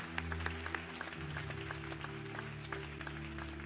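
A church congregation applauds steadily at moderate distance, with sustained clapping over a low organ or keyboard drone, and no talk on top.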